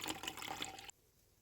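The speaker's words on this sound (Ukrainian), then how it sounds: "До сметани додаємо воду" Water poured into sour cream for a sauce, a short splashing pour lasting under a second that then stops abruptly.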